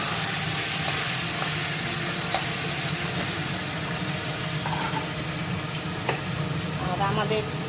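Marinated chicken frying in a pot gives a steady close sizzle with stirring scrapes and small clinks, continuous throughout.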